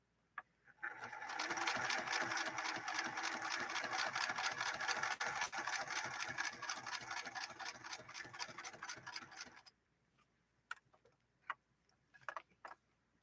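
A Singer Merritt sewing machine from 1872 runs a straight stitch line for about nine seconds. It gives a steady, rapid mechanical clatter close by, then stops, and a few scattered clicks and handling knocks follow.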